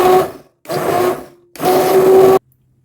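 An immersion blender whips liver pâté in the metal bowl of a pressure cooker, running in three loud whirring bursts, the last one longest, with short pauses between them and a faint hum after it stops.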